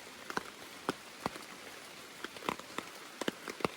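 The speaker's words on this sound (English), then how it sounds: "As you can tell, it's raining." Scattered raindrops patter and tap on a surface at an irregular pace, crisp and close, over a soft steady background hiss, at a camp in the Allegheny National Forest.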